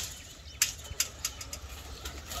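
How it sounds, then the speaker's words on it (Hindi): Pigeons arrive in a group of four, their wings flapping in several sharp, close bursts, with softer fluttering between them and no talk. "ये कबूतर आ गए हैं छोड़ने के लिए, चारों इकट्ठे ही आए हैं"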